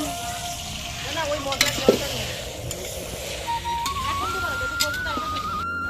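Food frying and being stirred in a pan during a family all-night New Year's Eve picnic cook-up, a steady sizzle with scraping stirs and a thin whistle-like tone drifting in the background.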